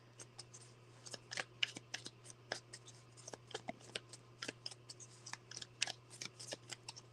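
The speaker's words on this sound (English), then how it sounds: "Let me just shuffle these." Tarot cards are shuffled in quick, crisp bursts of riffling and snapping, close and clear over a faint steady hum, with no talk.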